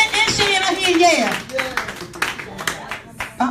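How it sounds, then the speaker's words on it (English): A woman's hands clapping at a Sunday morning church gathering: a run of sharp, irregular claps under a person talking nearby. "She just clapping her hands too."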